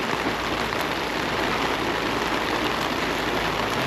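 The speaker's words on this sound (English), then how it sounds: "Why is it raining so hard?" Heavy rain pours down steadily and loudly outdoors, a dense unbroken hiss filling the whole scene with no let-up.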